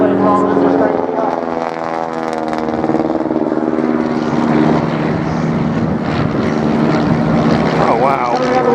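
A WWI propeller aeroplane flies at the Wings and Wheels airshow in Dunsfold, producing a loud sustained droning engine buzz with a rising and falling pitch as it passes, and people talk over it.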